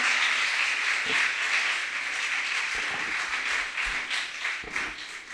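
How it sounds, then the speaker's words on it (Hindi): An audience at a school dance-drama seminar in Varanasi claps for a student performance, a steady, somewhat distant wash of applause with a few sharp nearby knocks and taps. "एक बार फिर से उनसे जोरदार तालियां हो जाएं।"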